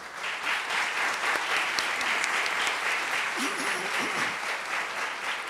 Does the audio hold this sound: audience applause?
yes